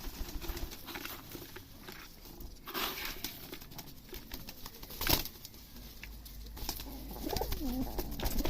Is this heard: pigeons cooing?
yes